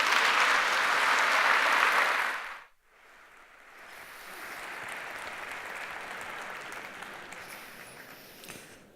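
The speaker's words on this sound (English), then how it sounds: "Let's give one more round of applause to Ms. Maureen." An audience at a healthcare quality and safety forum claps loudly after a talk; the dense applause lasts about two seconds, cuts off sharply, and gives way to a quieter, steady room hum.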